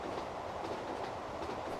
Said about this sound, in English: So here we see the end of our train disappearing